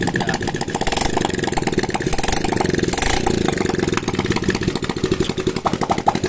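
An old Honda 70 motorcycle engine idles steadily right after being restarted, its exhaust noisy and close, with a dense, even chugging that runs throughout without any talk.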